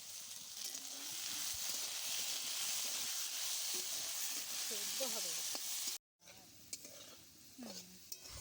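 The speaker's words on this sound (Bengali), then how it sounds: "এবার অল্প করে একটু নুন আর একটু হলুদ দিয়ে খুব ভালোভাবে ভেজে নেব আলুটা।" Potato pieces sizzle steadily in hot oil as salt and turmeric are stirred in, a constant soft hiss with occasional scraping stirs, while someone speaks over the cooking.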